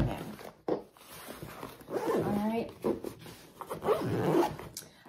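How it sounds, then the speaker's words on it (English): A hidden zipper on a travel bag pouch rasps open in several close, scratchy pulls, with a person talking over and between the strokes. "next compartment is this hidden zipper here"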